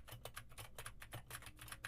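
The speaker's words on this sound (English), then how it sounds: "typing on a keyboard with Gatoron blue switches" Rapid, crisp clicking of a mechanical keyboard with Gateron blue switches, keys struck in a quick, slightly uneven rhythm, close up and quiet, with no voices.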